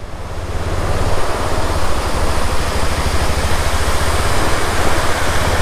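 A waterfall beside an off-road mountain route near Chirkila Dam, Dharchula, roars nearby, a loud, steady broadband rush of falling water with no pauses.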